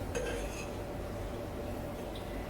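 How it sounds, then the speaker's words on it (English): A metal tablespoon clinks against a pot in the kitchen, a few light metallic taps near the start over low background noise. "And I'm gonna use one of these bigger spoons."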